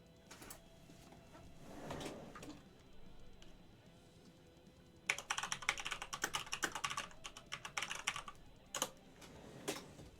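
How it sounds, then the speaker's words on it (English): A loud computer keyboard clatters in fast, uneven bursts of typing during a live online show, busiest in the second half, with quieter keystrokes and some room noise before it. "Kind of a loud keyboard."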